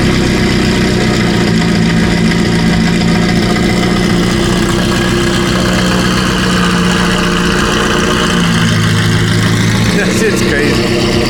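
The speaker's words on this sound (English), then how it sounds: "That exhaust is beautiful." A loud, steady Lamborghini engine rumble close by, idling with a deep exhaust note and brief rises in revs toward the end, with voices faintly underneath, at Monterey Car Week.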